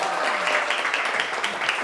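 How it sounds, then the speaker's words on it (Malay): Students clap in a classroom, a brief burst of dense applause with voices mixed in. "tepuk tangan"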